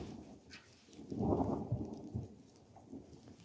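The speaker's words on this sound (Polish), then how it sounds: "U mnie się w ogóle błyska, grzmi, jest burza." Thunder from a storm over a snowy, frosty winter landscape: a low, soft rumble swells and fades over a couple of seconds, distant and faint against steady background hiss.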